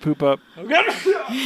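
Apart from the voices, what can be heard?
sneeze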